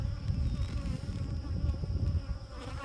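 Honeybees droning steadily at the hive while a frame is slid over, a dense continuous buzz close to the microphone for the whole stretch, with no voices.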